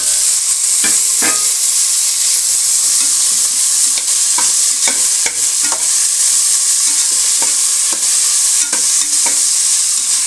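Onions, green chillies and tomatoes fry loudly in a pan for mushroom biryani, a dense close-up sizzle with repeated scraping stirs of a spatula at irregular intervals, no voices.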